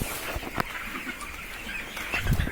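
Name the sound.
chicken and chicks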